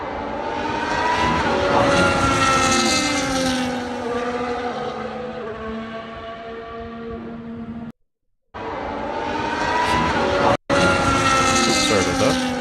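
Loud, high-revving Formula 1 engines at 2023 pre-season testing in Bahrain, heard from trackside. The pitch climbs and falls as cars pass, and the sound cuts out twice.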